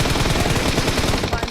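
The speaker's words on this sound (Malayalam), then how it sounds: "അമ്പാൻ്റെ ഫയർ" Rapid automatic gunfire from an online shooting game match, loud and continuous bursts of closely spaced shots running without a break.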